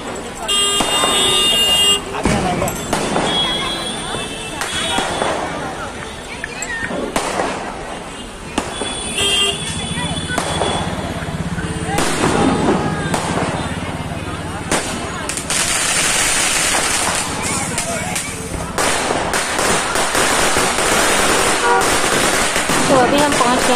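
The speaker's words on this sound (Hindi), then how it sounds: "यहाँ बहुत से लोग से पटाखे देखने के लिए आते हैं।" Diwali firecrackers and fireworks go off along Marine Drive in Mumbai, loud bangs and crackling bursts in irregular volleys over a busy crowd, with traffic noise and voices throughout.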